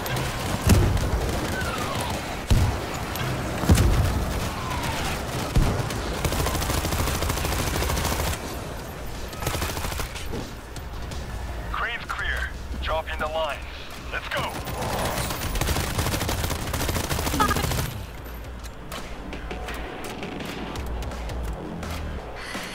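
Sustained gunfire from a World War Z zombie shooter fight in a Tokyo tunnel, dense bursts of automatic fire and heavy thuds rolling loud and continuous, with shouted voices breaking through now and then.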